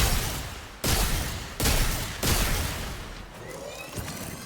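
Weapon fire in the video game Warframe, a loud burst of shots with three sharp onsets in a row, then quieter trailing rattle and debris as the firing tapers off.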